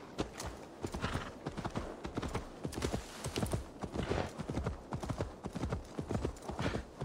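Steady clip-clop of horse hooves trotting at a brisk, even rhythm in the video game Assassin's Creed Valhalla, fairly close, with faint background sounds and no talking.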